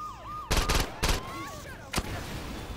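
Gunshots ring out in the video game Saints Row 2 during a run-in with a police officer: a few sharp, loud bangs in quick succession, with a wailing siren in the background.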